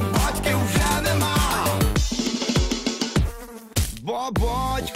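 Buzzing flies and mosquitoes woven into a Ukrainian pop song, a steady insect-like drone over punchy drums, bass and synth music, with no voices.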